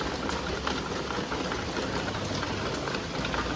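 Heavy rain pours down steadily in a dense, unbroken hiss of drops hitting surfaces nearby, with no talking.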